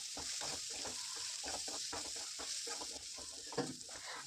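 Masala for egg curry sautéing in a hot pan, a steady close sizzle with irregular stirring and scraping strokes running throughout, no talking.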